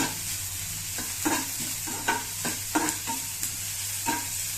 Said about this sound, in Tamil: பூண்டு போட்டு ஒரு வதக்க வதக்கிட்டு